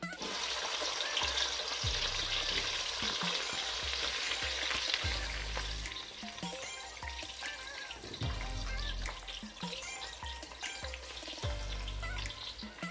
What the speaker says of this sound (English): I'm going to be adding just little salt to fry the onion